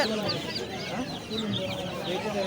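Chickens, including young chicks, at a poultry collection clucking and cheeping among several birds, faint under busy background noise.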